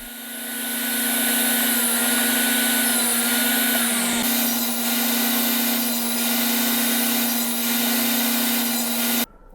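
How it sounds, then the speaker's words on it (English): A table saw hums steadily at a high pitch while a wedge sled feeds wood through for segmented vase pieces, the blade cutting repeatedly in back-and-forth passes with a brief dip mid-run and the motor cutting off at the end. "Now I'm using the wedgie sled here to cut off some segments."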